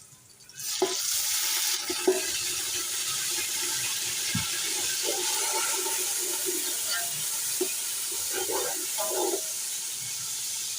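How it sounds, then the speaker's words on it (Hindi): Garlic water is poured into a pan of onions frying for aloo matar pulao, setting off a loud, steady sizzle with bubbling and occasional stirring clinks that continues for several seconds. "तो अब इसके अंदर हम डाल देंगे थोड़ा सा ये लहसुन का पानी है।"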